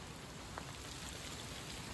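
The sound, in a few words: heavy rain pouring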